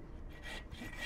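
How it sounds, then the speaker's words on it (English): A hand saw cuts through a fallen tree blocking an off-road trail, quiet rhythmic rasping strokes, about three back-and-forth pulls, faint and without voices. "gonna use his handy dandy saw, chop it down"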